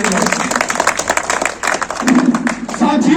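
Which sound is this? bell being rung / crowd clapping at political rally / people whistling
crowd clapping at political rally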